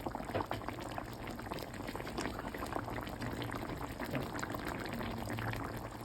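Spicy Sri Lankan-style thick Australian beef rib curry simmering in a covered pot, a steady, faint bubbling and popping that continues evenly throughout.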